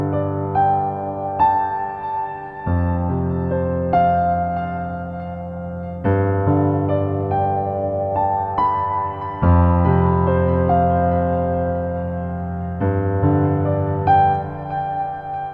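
A BEAM 2 granular synth part plays sustained, layered chords that change every couple of seconds, while a macro sweeps the grain mix and filter cutoff so the texture shimmers and brightens. It is loud and steady, with no talking.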